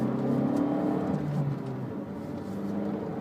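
A Fiat 500X 1.4 MultiAir 140 hp pulls hard in sport mode on a winding road, its engine note rising in pitch and then dropping as it shifts, heard from inside the car as a steady, mid-level drone.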